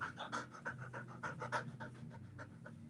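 A dog pants steadily nearby in quick, rhythmic breaths, fairly loud with no talk over it.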